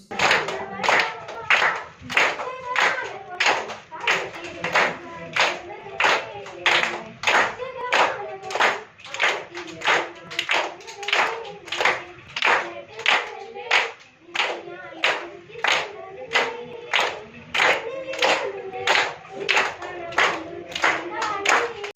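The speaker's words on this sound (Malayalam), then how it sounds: "കുട്ടികളടക്കം എല്ലാവരും കൈയടിച്ചു പ്രോത്സാഹിപ്പിച്ചു" Children and others at a flood relief camp clap together in a steady, rapid rhythm, many hands striking in sharp repeated bursts that carry on continuously and loudly throughout.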